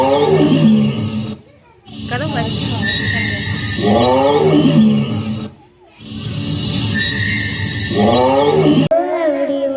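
A young child at a school World Animals Day celebration imitates a tiger's roar with the voice, giving two long rising growls separated by short pauses, loud and close, with brief speech at the end.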